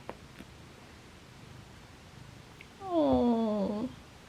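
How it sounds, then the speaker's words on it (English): A pet cat named Taco lets out a single drawn-out, whiny meow close by, rising then falling, after a few seconds of quiet room hiss with faint rustling. "You just meowed at me."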